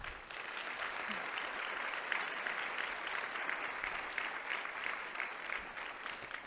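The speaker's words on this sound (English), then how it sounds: "So would you please give them a round of applause?" An event audience applauds the organizing teams at a signature keynote event, a steady, dense wash of clapping from a sizable crowd that holds throughout.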